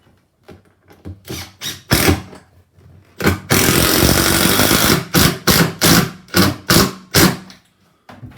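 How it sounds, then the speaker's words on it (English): A power drill bores down through a bathroom floor in a string of short, loud bursts, then one longer sustained run, followed by more quick stop-start pulses close by. "Always be aware what you're drilling into underneath. See that? That's just going through the floor."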